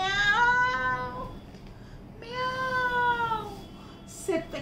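A voice imitates an orange cat's meow with two drawn-out, rising-and-falling meows, the second after a short pause, close and fairly loud. A brief soft noise follows at the end.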